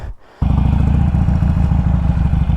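A Harley-Davidson Sportster 1200 motorcycle on a test ride: the engine fires up after a brief quiet moment, then settles into a loud, close, steady, lumpy rumble with rhythmic low thumping throughout.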